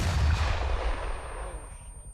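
In a military combat game, a heavy rocket launch or blast produces a deep, booming rumble that opens loud and then fades away over about two seconds.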